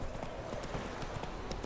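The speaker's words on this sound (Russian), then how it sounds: "Лошадь какая-то пугливая, вообще трусливая." Horse hooves clip-clop steadily in The Witcher 3 video game, a continuous trotting rhythm with dense repeated hoof strikes at moderate loudness, carrying on alone without talk.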